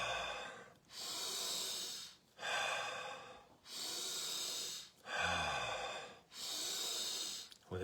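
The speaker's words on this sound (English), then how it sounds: "I invite you to shift to breathing in through the nose and out through the mouth" Slow, deep breathing, drawn in through the nose and let out through the mouth, as in a guided breathing exercise: long airy breaths, close and loud, with short pauses between them.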